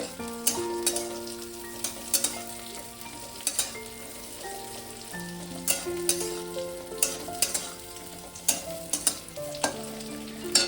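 Diced onion stirred in a frying pan while cooking paneer Manchurian, with a steady sizzle under repeated scraping utensil strokes and sharp clinks, close and fairly loud throughout with no talking.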